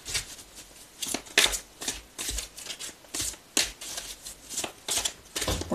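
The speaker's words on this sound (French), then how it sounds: "Je te tire des cartes conseils supplémentaires." Oracle advice cards being shuffled and drawn by hand, a rapid series of close papery riffles and flicks in irregular bursts, with quiet pauses between.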